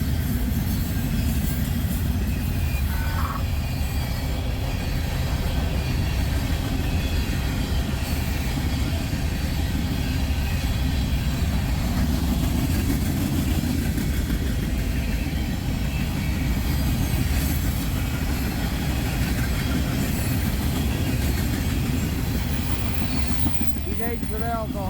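Freight train rolling past with a steady heavy rumble and rail noise that fills the whole stretch, constant and fairly loud with no clear break.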